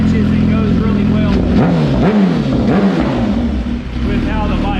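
A 2018 Suzuki GSX-R 1000 R motorcycle fitted with a Brock's carbon exhaust idles loudly and blips its revs in rising and falling surges, close by, while people talk over it.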